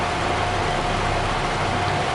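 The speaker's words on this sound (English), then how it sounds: "away we go with the air drill" Tractor engine in Farming Simulator 22 hauling an air drill, a steady, loud, broadband drone with a low hum underneath, holding constant without change.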